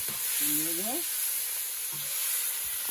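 Soya chunks fried in a pan give a constant bright sizzle, with brief low stirring knocks and a short tonal squeak laid over the hiss.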